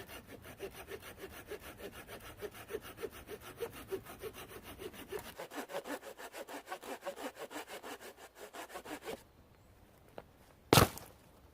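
A hand saw cuts steadily through wood in a pine forest in rapid, rhythmic back-and-forth strokes, close by, ending with a brief pause and a sharp knock.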